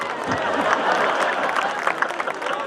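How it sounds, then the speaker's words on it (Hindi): Audience claps steadily at a Hindi poetry recital, a brief, even burst of applause mixed with crowd murmur. "मुमताज जी तुम भी ताली बजाओ"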